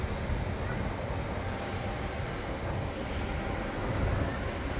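Airliner engines at Kagoshima Airport, heard from the observation deck as a steady broadband roar with a low rumble throughout, fairly far off and constant, with no voices over it.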